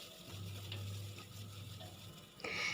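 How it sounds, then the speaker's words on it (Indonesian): Shallots sauté in a pan for fried rice, a soft steady sizzle with faint stirring scrapes and a low hum underneath, fairly quiet and without talk. "tumis bawang merahnya dulu sampai harum"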